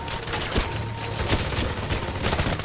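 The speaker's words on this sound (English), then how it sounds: "the game has a few audio glitches causing the gunfire to cut out mid-rampage" Gunfire in 007 Legends, dense rapid bursts of shots crackling continuously and loudly throughout, like a sustained automatic weapon rampage.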